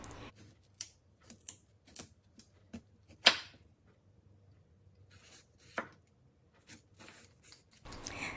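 A knife cutting through a chayote squash, a handful of sharp, close clicks and crunches spaced irregularly over near silence, the strongest thud in the middle.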